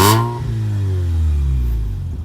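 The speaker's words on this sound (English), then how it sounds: "we're going to hop in, we're going to take it for a test drive." A Mazda RX7 with a Racing Beat exhaust revs up on a test drive, its engine pitch climbing then settling into a loud, close drone over about two seconds.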